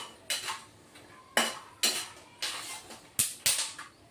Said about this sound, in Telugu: పల్లీలు చిటిపట్లాడుతున్నాయి